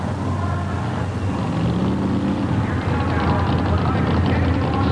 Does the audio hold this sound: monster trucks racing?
yes